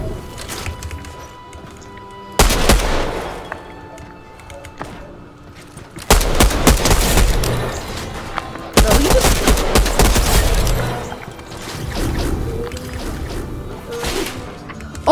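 Gunfire in the Fortnite video game comes in loud bursts of rapid shots separated by quieter stretches, with game sounds in between and no talking.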